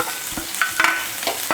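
Shallots, garlic, ginger and coconut sautéing in hot oil, a steady soft sizzle broken by a few scraping stirs of a spoon against the pan.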